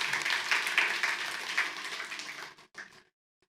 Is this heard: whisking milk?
no